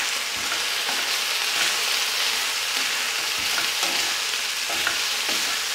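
Meat for gyros fries in a pan over fairly high heat, giving a loud, steady sizzle with occasional stirring scrapes and no talk.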